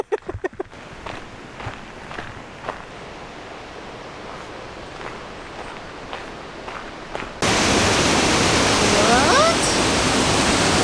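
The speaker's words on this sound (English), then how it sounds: "go back up to a little waterfall" A waterfall's steady rushing roar, loud and continuous, gets much louder partway through, with a few soft taps early on.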